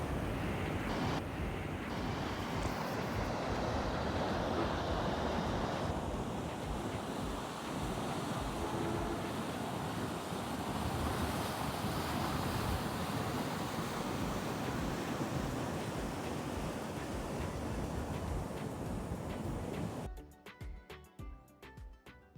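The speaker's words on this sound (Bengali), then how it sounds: "একটু পরপরই বেশ বড় বড় স্রোত এসে আসে এই জায়গায়" Ocean waves roll in and break at the beach at Cox's Bazar on the Marine Drive coast, a dense continuous roar of surf mixed with heavy wind buffeting the microphone, cutting off abruptly near the end.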